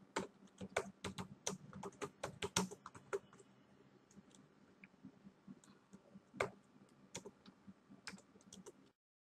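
A title is typed on a computer keyboard in quick, irregular bursts of crisp key clicks, dense at first, then sparser with short pauses, close and fairly quiet, ending in silence.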